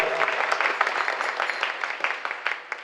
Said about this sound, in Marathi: एकदा जोरदार टाळी वाजवून त्यांचं स्वागत करा